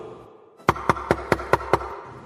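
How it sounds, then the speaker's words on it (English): Six sharp knocks on a door come in an evenly spaced rapid sequence, loud and close, after a brief quiet moment. "there's a knock at the door"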